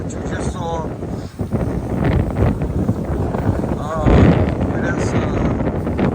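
Strong gusts buffet the microphone in a loud, continuous rumble on a city street where a sidewalk tent toppled, with a brief lull before a harder blast later on, and voices faintly mixed under the wind.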